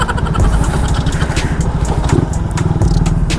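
A Raider motorcycle engine drones steadily up close while riding through traffic, with a low pulsing rumble and scattered clatter throughout.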